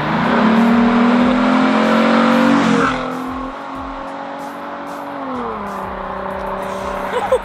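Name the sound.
tuned Ford Mustang engine revving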